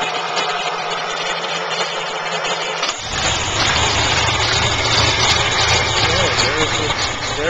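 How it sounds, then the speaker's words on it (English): A 1931 Packard engine starts partway in and settles into a loud, steady idle, a deep rumble that continues to the end while people talk nearby. "Oh, there it is. The engine is running."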